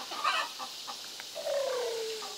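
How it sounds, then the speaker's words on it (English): Chickens cluck softly on a chicken farm during feeding time, with a few short clucks and one drawn-out call, fairly quiet and alone with no talking. "Feeding the chickens."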